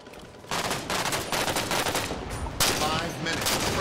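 Sniper rifle fire in a Halo 5: Guardians beta multiplayer match, a few loud sharp shots with noisy game ambience around them and a burst of sound near the end.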